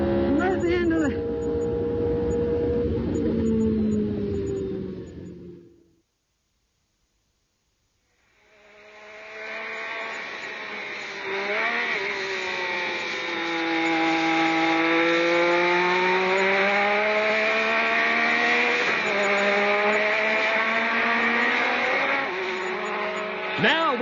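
A racing car at Brands Hatch shifts through its gears and brakes hard. Its engine note sweeps up and falls away with each gear change, and it cuts out briefly before roaring back. A voice talks over it.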